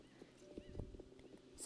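Hooves clip-clop at an uneven walking pace on a hard surface, fairly close, with a faint horse snort and some background noise.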